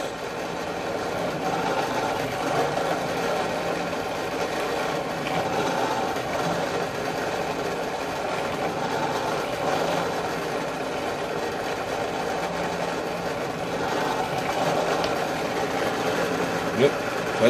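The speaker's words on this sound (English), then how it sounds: "I'm just stitching it up. Back and forth, back and forth." A sewing machine stitches back and forth across holes in a large multitool carry-all, its steady motor whir and needle clatter running continuously while a person talks over it.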